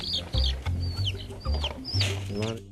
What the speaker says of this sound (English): Check on our chickens a little.